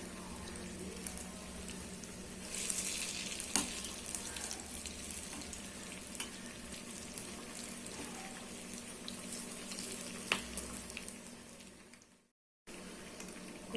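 Vadai, lentil fritters, frying in oil over a medium flame: a steady soft sizzle with faint crackles runs throughout, briefly cutting out near the end before resuming.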